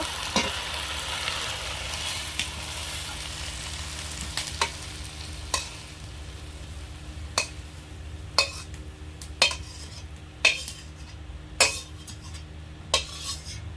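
Okra curry sizzling in a pan, first as a steady hiss and then with a run of sharp metallic clinks and knocks of a lid and utensils, getting louder toward the end.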